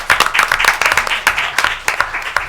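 Attendees at a Board of Trustees meeting clap after a presentation, producing brisk, closely packed clapping from a modest group, loud and near, lasting the whole moment.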